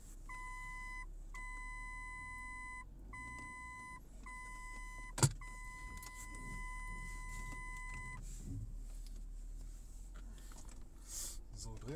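A car backing up, with a series of steady electronic warning tones in short bursts over low engine rumble, one sharp click midway and some mechanical noise near the end.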